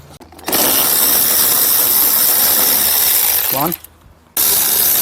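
A ratchet spins off 10 mm nuts holding the side mirror on an 2008 Dodge Ram, a loud continuous clicking pawl run lasting about three seconds, a short pause, then ratcheting resumes; a voice briefly counts.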